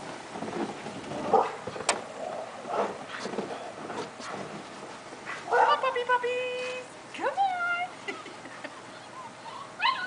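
Puppies whimper and yip in a run of high, wavering squeals out in the snow, with a person talking softly nearby between the cries.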